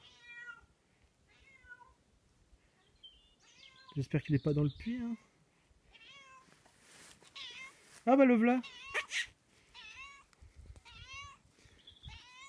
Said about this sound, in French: Alors j'entends miauler mais je vois pas le chat.